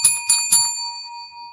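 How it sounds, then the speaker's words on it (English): A front desk service bell is struck three times in quick succession, each bright ding ringing out and fading slowly into a lingering hum. "I got those bells they have like at a front desk."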